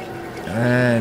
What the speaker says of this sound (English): there you can hear my revs dropped a little bit as I pushed it a little bit too hard